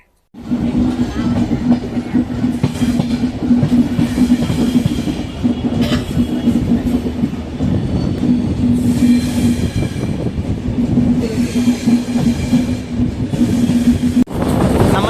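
The Mumbai Kurla Express rolls along steadily after leaving Bangalore Cantonment station, wheels rumbling and rattling on the rails with a constant low hum and occasional squeals, loud and close.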